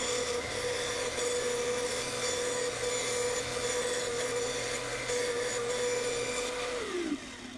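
A band saw running steadily with a circle-cutting jig as it cuts a 4-inch circle from a square wooden blank, a loud continuous close whine with rough rasping of the blade through wood, easing into a falling pitch as the saw winds down.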